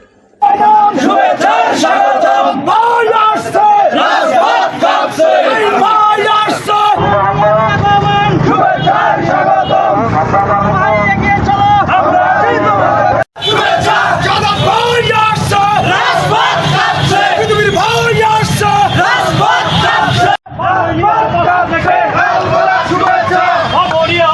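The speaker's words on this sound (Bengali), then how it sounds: "বিভিন্ন ওয়ার্ডের দলীয় নেতাকর্মীগণ স্লোগান নিয়ে সভাস্থলে জড়ো হয়" Party activists and youth wing members from several wards chant slogans loudly in unison as they gather at a primary school field for a rally in Bamunia union, Domar, the crowd roaring continuously with brief pauses.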